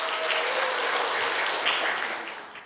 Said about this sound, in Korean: 노래를 들려주신 우리 참가자분께 다시 한번 큰 박수 부탁드릴게요.